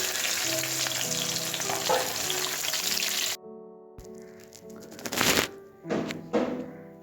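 Chopped onions poured into hot oil for biryani: a loud, steady, close sizzle that cuts off briefly, then returns in hissing, crackling bursts as the pieces are stirred.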